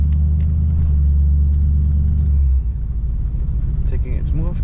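Fox Body Ford Mustang with failing brakes creeping slowly over a speed bump, a loud low engine rumble that drops and shifts partway through, heard from inside, with people talking over it.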